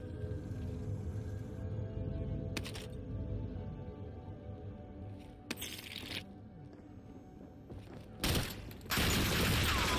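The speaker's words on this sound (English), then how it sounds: "what kind of shitty gun was that?" Gunfire in the video game Warzone: a few sharp bursts of shots with short loud bangs separated by quieter stretches, ending in a sustained loud rattle of fire.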